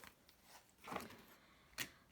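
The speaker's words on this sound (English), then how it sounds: "One more shuffle." Tarot cards being shuffled by hand, giving a soft papery riffle that builds near the one-second mark and ends in a sharp brief burst of card noise, with no talking.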